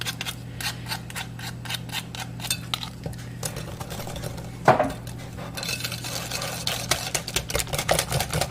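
A whisk beats brown sugar pie filling in a bowl, making a steady run of rapid scraping taps against the sides, close and clear, with one sharper clank midway and no talk.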